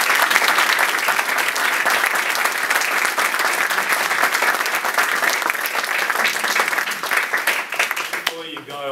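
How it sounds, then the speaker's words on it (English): An audience applauds Scott Farquhar of Atlassian at a Startup Grind Sydney talk: dense, loud, sustained clapping from a roomful of people that continues without break, then trails off as a voice comes in at the very end. "everyone just gives Scott a round of applause"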